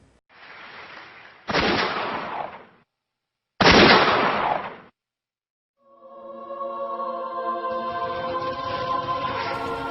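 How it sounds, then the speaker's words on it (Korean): Gunfire in a dramatized Korean War film scene on a seaside sandy beach, with two loud, sharp bursts of shots separated by silence, followed by a sustained droning tone that rises in level. "어느 바닷가 모래밭에서 날카로운 총성이 울려 퍼졌다"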